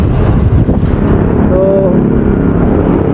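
A headwind batters the microphone on a year-end bike ride to Tagaytay, making a loud, constant low rumble and buffeting that fills the whole stretch.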